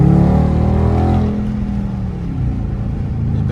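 A new car drives with its windows down, giving a loud, steady rumble of rushing wind and road noise close up, with no talking.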